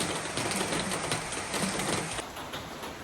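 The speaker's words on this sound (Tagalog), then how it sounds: "Maulan ngayon." Steady heavy rain falling as a typhoon approaches, a dense continuous hiss close by and fairly loud, with no talking.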